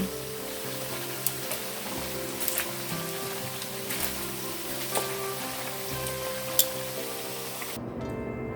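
Pork griot, Haitian fried pork chunks, sizzling in a pan as the pieces are turned; a steady crackling fry with a few sharper pops, close and alone, cutting out just before the end.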